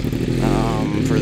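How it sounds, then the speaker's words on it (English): 2007 Suzuki GSX-R1000 with a full 4-into-1 level 1 racing exhaust, revving loud and close, a deep rasping engine roar rising briefly in pitch before settling. "It's one of the best sounding bikes that I've heard."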